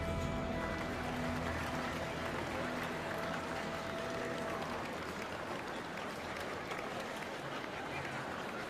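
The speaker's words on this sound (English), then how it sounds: "Everyone applauds" Crowd applause inside the video game Ruined King, a dense steady wash of clapping that holds for the whole stretch, with a faint sustained musical tone underneath early on before fading.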